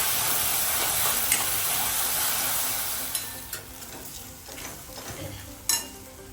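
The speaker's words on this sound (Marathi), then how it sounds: "आता आपण कांदा बारीक चिरलेला टाकून घेऊया. मस्त फ्राय होऊ देऊया आता कांदा." Finely chopped onion fries in hot oil for mushroom masala, a loud, steady sizzle that fades midway, with a few sharp scrapes and clinks of a stirring spoon against the pan.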